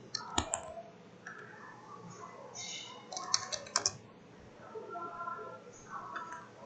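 Someone types a father's name into an online anti-ragging undertaking form on a computer keyboard: quiet, irregular bursts of keystrokes with short pauses between them.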